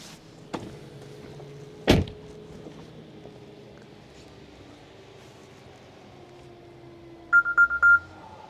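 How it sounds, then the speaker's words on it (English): A loud electronic chime from a 2025 Tesla's exterior speaker, warning of a phone left on the charger, rings out in a quick burst of repeated tones near the end, after a door thump and a sharp click earlier. "You will hear a really loud chime come out from the speaker of this car from outside."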